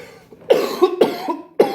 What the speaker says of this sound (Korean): 갑자기 왜 기침 나오죠?